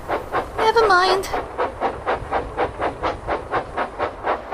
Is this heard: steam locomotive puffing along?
yes